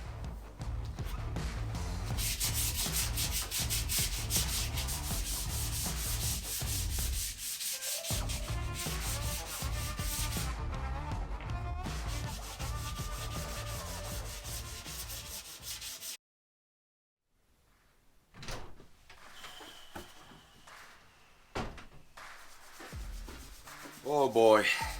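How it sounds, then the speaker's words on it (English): Van cabinets being sanded inside a Peugeot Boxer/RAM Promaster conversion: a close, loud, continuous abrasive rasp for about fifteen seconds with one short pause, then near silence broken by scattered handling knocks and faint scraping. "now I can start sanding my cabinets so I can paint them"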